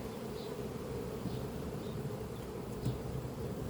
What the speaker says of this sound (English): Quite a few bees along there